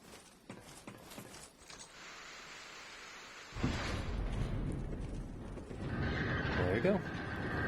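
A heavy door mechanism grinds open in Dark Souls 2 after a belfry bell is rung, a low rumbling, scraping drone that swells midway and carries on steadily with a faint ringing tone over it.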